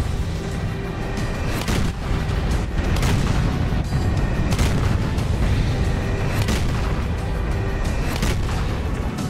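Heavy cannon fire in the Serious Sam 4 video game, dense booming blasts rolling one after another over a constant roar of battle noise, loud and without pause.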